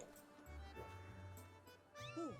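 A cat meows in The Legend of Zelda: Skyward Sword, with a couple of short close mews standing out over the game's steady background music.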